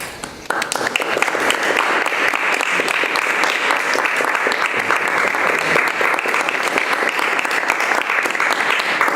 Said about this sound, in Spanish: primero, pues yo un aplauso a la danza.